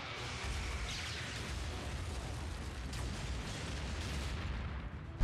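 Explosion as the Omega Lock is destroyed in the animated series Transformers Prime, heard as a sustained low rumbling roar with a few surges and a sharp burst at the end.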